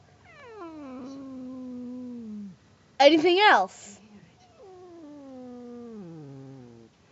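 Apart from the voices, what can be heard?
cat meowing and caterwauling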